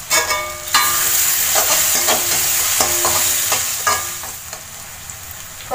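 Crushed garlic and green chilies frying in hot oil for a Kerala-style chicken fry, a steady close sizzle with bright hiss, broken by a few stirring clatters of a spoon against the pan.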